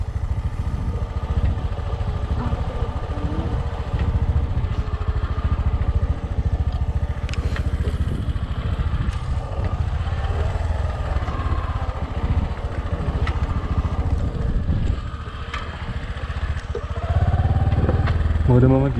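A motorcycle engine riding along a road, a steady droning rumble with clattering road noise throughout and a louder low surge near the end, with a rider talking over it.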